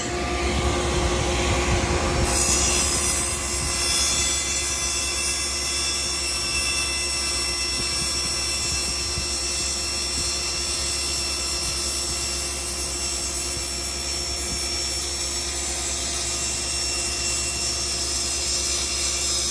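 A saw fitted with an alternate tooth blade cuts through two sheets of melamine, giving a loud, continuous whining roar with steady tones that runs without a break from start to finish, with no voices.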